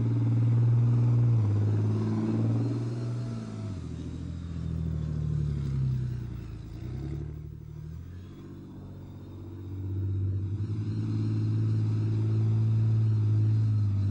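A Challenger main battle tank drives past, its heavy engine rumbling loud and close, the tone rising and falling as it revs, then fading briefly before swelling again, with no speech.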